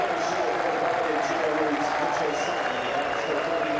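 A cricket crowd at Seddon Park rises to applaud a New Zealand batter walking out for his final Test innings against England, steady broadband clapping and cheering from a large stadium audience throughout.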